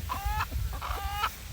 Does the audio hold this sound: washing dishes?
no